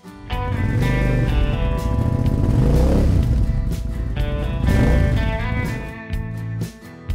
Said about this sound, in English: Cabriolet.